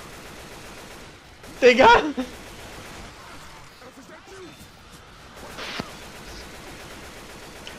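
Gunfire in the zombie shooter Left 4 Dead 2, a short loud burst of rapid shots near the start followed by quieter game noise and a later thud, with players talking over it.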